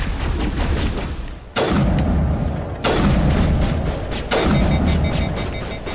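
Grenade explosions in Mass Effect Legendary Edition: three loud, booming blasts spaced about a second and a half apart, each a sharp onset with a long rumbling decay, over constant game noise and without talk.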